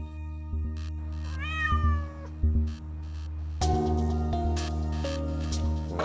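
Several cats kept in a backyard shelter meow one after another, some calls rising and drawn out, all loud and close over a steady low background hum.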